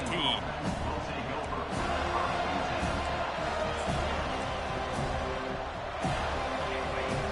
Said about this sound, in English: How about this crowd rattling the rafters and trying to help their defense?